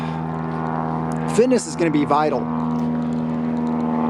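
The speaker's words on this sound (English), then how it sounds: "Excuse the plane noise." A propeller airplane drones steadily overhead throughout with a low, constant tonal hum, while a person talks over it briefly in the middle.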